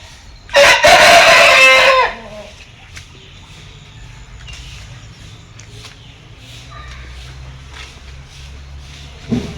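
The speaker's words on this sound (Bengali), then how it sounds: "এখানে মুরগি আছে।" A rooster crows loudly and close for about a second at the start, with hens clucking afterwards, heard at a farmyard in Purulia where a mother hen roams with tiny chicks.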